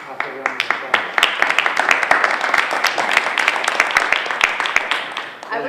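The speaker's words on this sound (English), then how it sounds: "I just want to offer a round of applause" A room full of people at a school committee meeting breaks into sustained applause, many hands clapping densely and steadily for several seconds at moderate loudness.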